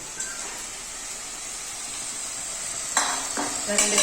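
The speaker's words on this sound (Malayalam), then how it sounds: "നമുക്കിതൊന്ന് തുറന്ന് ഇളക്കി കൊടുക്കാം" Eid special chicken fry cooking in its own juices without water, stirred in the pan: a steady close sizzle, with a few scraping stirs near the end.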